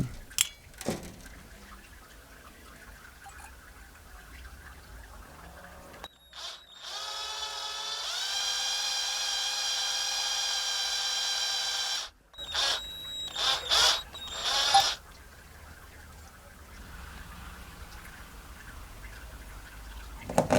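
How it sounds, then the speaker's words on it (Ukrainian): A small drill whirs steadily for several seconds boring a 1 mm hole in a homemade fishing lure, a high, even motor whine, preceded and followed by quiet handling clicks and rustles. "Тепер з середини в нижній частині треба просверлити отвір діаметром 1 мм."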